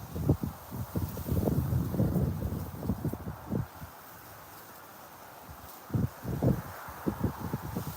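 Wind gusts buffet the microphone beside a river during steelhead fishing, low rumbling bursts that come and go irregularly with quieter gaps and faint rustling between them.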